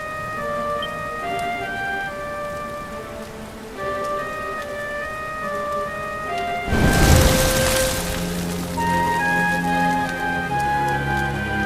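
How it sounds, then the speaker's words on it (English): Steady rain falls in the role-playing game Dragon Quest XI, a soft, even patter under a melodic music score, with a short surge of heavier splashing or a thunder-like crash partway through. "Looks like the rain's dying down."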